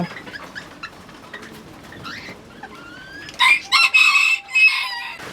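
Brown and black chickens kept as pets cluck and chatter at a farm, and a rooster crows loudly and nearby over steady background noise near the end.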